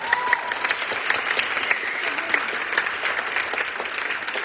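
An audience at a middle school spring concert applauds steadily with dense, sustained clapping that fills the space, a few faint voices mixed in.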